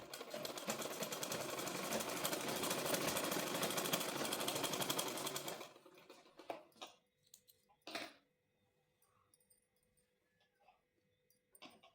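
A sewing machine stitches a palazzo pant seam in a dense, steady whir for about half the time, then stops, leaving a few scattered clicks and knocks of handling cloth and parts.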